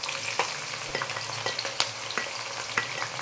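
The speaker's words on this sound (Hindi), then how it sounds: "यहाँ हमारे पास दो दरमियाने साइज़ के प्याज हैं, इनको हम लाइट गोल्डन कलर आने तक इनको फ्राई कर लेंगे।" Two medium onions frying in hot oil in a pot over a medium-low flame, a steady close sizzle with frequent scraping stir clatters, no voices.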